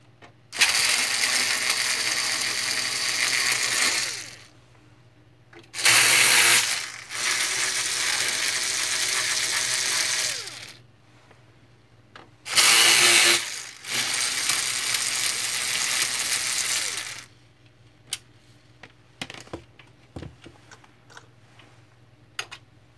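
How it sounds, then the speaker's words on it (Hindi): Screws come out of an HP LaserJet 1320 printer under a ratcheting screwdriver, heard as three long bursts of rapid loud mechanical clicking near at hand, separated by pauses and followed by a few scattered taps, with no talk. "अभी 1, 2 और ये तीसरा ये स्क्रू, इन 3 को खोलूँगा।"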